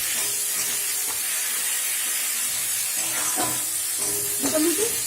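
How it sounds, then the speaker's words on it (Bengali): Masala spice paste fries in oil in a pan for a small-fish chorchori recipe, giving a steady, close, even sizzling hiss with a few faint clinks near the end. "মশলাটা কষানো হয়ে গেলে মশলার উপর থেকে তেলটা বেরিয়ে আসবে"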